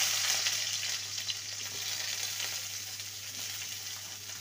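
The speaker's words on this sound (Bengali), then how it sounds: "পেঁয়াজটাকে হালকাভাবে ভেজে নেব।" Chopped onions fry in oil after the tempering spices, a steady, even sizzle holding at moderate loudness with no talking.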